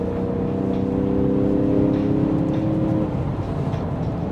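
A Porsche 911 engine runs with a steady droning hum that swells briefly and settles, heard from inside or near the car with no talk over it.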